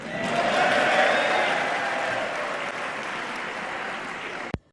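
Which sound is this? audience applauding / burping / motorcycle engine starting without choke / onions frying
audience applauding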